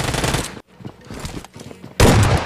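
Shotgun fire in the mobile battle royale BGMI, loud bursts opening and closing a short stretch with a quieter gap of softer game noise between.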